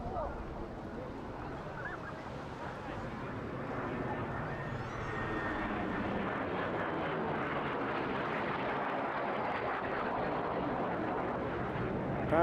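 A MiG jet fighter with a Klimov VK-1F turbojet flying at Eastbourne International Airshow, using afterburner, a loud, continuous jet roar that thickens and holds steady through the pass.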